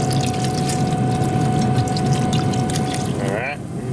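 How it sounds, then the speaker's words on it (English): A bottle of Genesis Extra Stout beer pours steadily into a pot of braising beef shank, a continuous close, gurgling liquid rush that thins out near the end. "We're going to add a bottle of Genesis Extra Stout beer."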